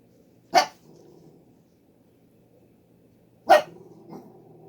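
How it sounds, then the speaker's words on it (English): Molly, a pet dog, gives two sharp, separate barks a few seconds apart indoors, followed by a softer short yip, with quiet pauses in between. "I don't know what she's barking at now."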